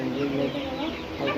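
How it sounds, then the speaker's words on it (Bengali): A large rooster clucks and squawks while being caught at night. The sound is a dense, continuous, agitated commotion heard up close, with a voice talking over it. "একটা বড় মোরগ ধরে নিয়ে এসছে"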